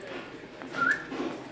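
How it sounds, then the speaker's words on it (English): A short rising human whistle rings out once over quiet background murmur, fairly close. "I should whistle"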